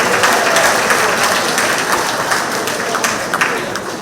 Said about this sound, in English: We give another round of applause.